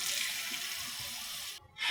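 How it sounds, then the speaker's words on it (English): A kitchen sink tap runs with a steady, bright hiss of flowing water, close by, that breaks off briefly near the end before resuming. "I just turned on my sink"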